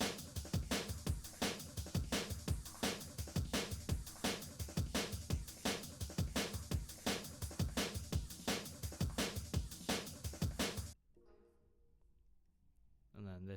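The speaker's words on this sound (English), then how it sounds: "Then those three breakbeats together sound like this." Three breakbeats play layered together, one of them ring-modulated, with the low end cut and the highs boosted around 7K; dense, loud, rapid drum hits run steadily for about eleven seconds before dropping to a faint tail.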